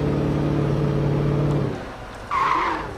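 A car in the video game Alan Wake brakes and skids, a loud engine drone sliding into a rising tire squeal that cuts off, then a shriller screech near the end.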